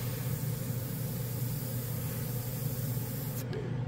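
Airbrush spraying paint with air from a cheap tank air compressor, a steady faint hiss with low hum beneath, continuous and close without pause.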